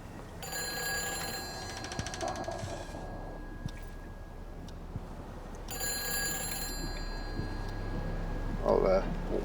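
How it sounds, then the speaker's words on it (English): Telephone ringing in the video game Everybody's Gone To The Rapture: two bursts of bright, rattling bell rings heard faintly over soft ambient background. "there's a phone ringing"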